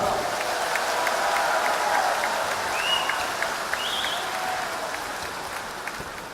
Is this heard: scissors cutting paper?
no